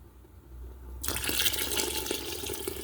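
Water starts abruptly into a pot of chicken and rice soup, a loud close splashing pour that continues steadily to the end.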